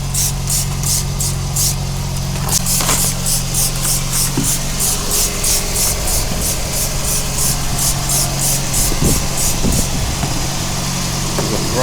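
Water sprays onto a car to soften three years of grime while an engine idles nearby, a steady hiss mixed with a constant low drone and rhythmic pulsing, close and continuous.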